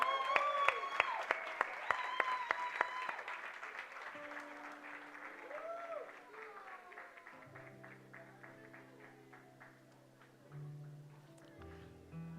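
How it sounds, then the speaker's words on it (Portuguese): Scattered claps from a church congregation at a Verbo de Vida Argentina service ring out alongside soft keyboard music, then fade. Sustained organ-like tones carry on alone, all fairly quiet and distant. "Vamos dar um forte aplauso, amém?"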